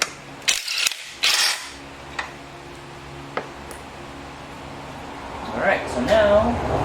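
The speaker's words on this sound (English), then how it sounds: "So they're a style of lock nut. That's why they sound like they're a bear coming off of there." Pinched lock nuts being wrenched off a 2018 Ford Focus engine give a couple of loud, close, grinding ratchet bursts near the start, then a low mechanical hum and scattered clicks and creaks.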